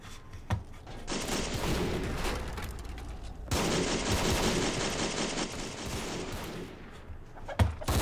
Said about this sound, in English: As long as the machine gun keeps firing